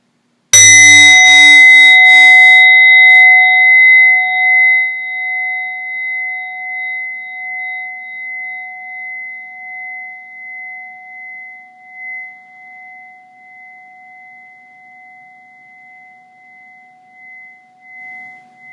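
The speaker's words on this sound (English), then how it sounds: "As you hear the sound of the bell, listening from the beginning of the ring until it trails off into space" A single meditation bell struck once, loud at first, then its clear ringing tone slowly fading away over many seconds into near silence, alone without talk.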